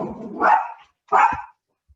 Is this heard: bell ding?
no